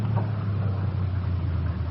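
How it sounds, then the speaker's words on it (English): A car engine drones steadily on a road as a radio drama sound effect, a low continuous rumble held at an even level throughout, with no talk over it. "The car's coming up the road toward us,"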